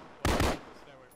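Automatic gunfire in the video game Arma, a single loud burst of rapid shots lasting about a third of a second, standing alone against a quiet background.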